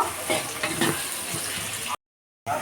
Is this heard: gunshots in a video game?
no